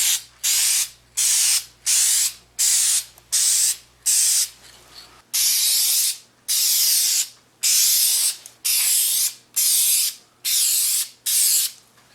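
A spray can puts clear coat on a car mirror from a Nissan Rogue, sounding as a run of about fourteen loud, close hissing bursts, each roughly half a second to a second long, with short gaps between them.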